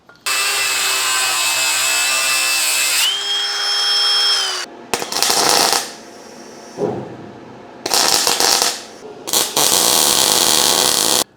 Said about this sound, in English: I'm thinking about just basically cutting it up with the grinder, tack welding it back on.